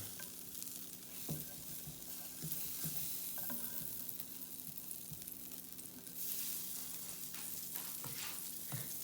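Butter sizzles in a pan over low heat, a soft, steady hiss broken by light scrapes and taps as it is spread around, with the sizzle swelling a little toward the end.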